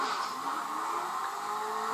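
Engine of a fast car driven in the video game GTA 5, a steady mid-pitched drone holding constant for the whole stretch with no talk over it.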